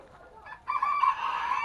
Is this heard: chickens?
yes